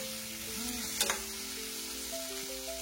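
Pork and tomato sizzle and fry quietly in a pan while being stirred, with a soft steady crackle, a brief sharp scrape of the spoon near the middle, and no talking.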